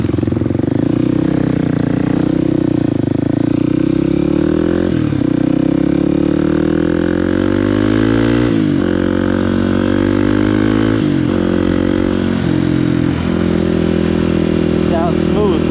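A motorcycle engine runs steadily while the rider shifts gears, with repeated rev dips and rises as it downshifts and upshifts, loud and close throughout, and a voice talking over it.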